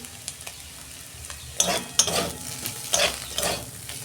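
Teasel gourd pieces frying with chili, coriander and cumin powders, stirred in a pan with a spatula, giving a steady sizzle punctuated by several close, scraping strokes in the second half.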